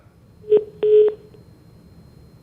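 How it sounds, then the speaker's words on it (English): Telephone dialing tones sound on an open phone line after a caller drops off a live news broadcast: one short beep, then a longer held tone, over faint line hiss. "I think we've lost that line with Prashant, but the phone line is open"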